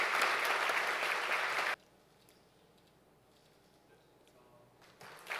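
Dense, loud audience applause at a Handong Global University presidential inauguration ceremony during a flower presentation, lasting about two seconds before cutting to a near-silent hall, with clapping swelling again right at the end.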